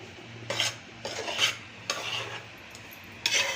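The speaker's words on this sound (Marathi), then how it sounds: "भाजत आले बघा नाचण्याचं पीठ." Ragi (finger millet) flour roasting in a pan with ghee, stirred with a spoon: four soft scraping strokes at an uneven pace, close and quiet.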